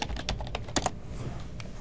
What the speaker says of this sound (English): I'm just going to type Maya 2013 bonus tools.